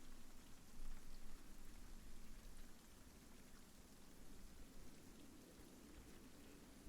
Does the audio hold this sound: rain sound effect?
yes